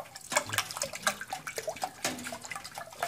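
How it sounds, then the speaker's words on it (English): Stirring a mixture into ocean water in a container, with quick wet swishing and small splashy liquid movements repeating throughout, close and moderately loud. "We're going to dump it into the ocean water. And we're going to stir that in very quickly."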